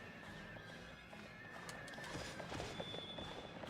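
A horse neighs loudly and shrilly in a scene from the video game Drakengard, with clopping hooves and other ambient game sounds around it.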